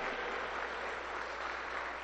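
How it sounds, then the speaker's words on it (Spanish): Steady, dense applause from a church congregation in praise, heard at a moderate distance and sustained evenly throughout without a break. "Alábele al que vive con aplausos fuertes."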